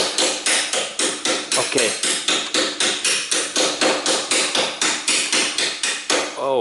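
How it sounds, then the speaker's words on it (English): A hammer strikes the upper bolt of a car's rear spring over and over in a fast, even rhythm, each metal blow loud and close, with one brief word spoken near the end. "I give a little bit hammering in that upper bolt"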